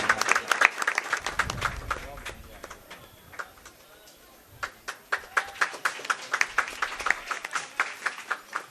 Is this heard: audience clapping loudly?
yes